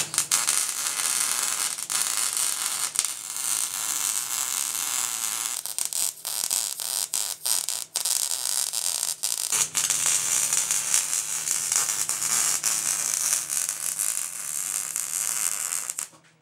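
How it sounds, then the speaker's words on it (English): Steady electric welding arc buzzing and crackling continuously for a long stretch, close and fairly loud, with brief dropouts and no talk. "Welding."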